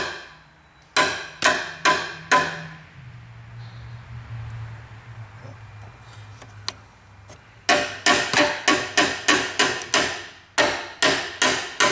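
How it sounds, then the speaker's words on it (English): A screwdriver repeatedly tapping a part on a Nissan Altima with a no-throttle fault: a quick burst of four sharp knocks, a pause with a low engine hum, then a rapid run of about ten crisp, close taps. "give it a little tap, we'll look on scan data and look at the scope"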